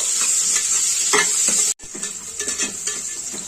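Thick-cut onions fry in a pan for menthya bath, a steady close sizzle with scraping stir strokes throughout, cut by a brief silent gap midway.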